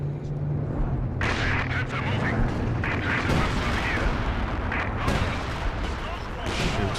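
Rocket artillery firing in a World War II strategy game, heard as a steady barrage of booms and blasts with loud bursts at intervals, layered under ongoing in-game talk and battle noise throughout.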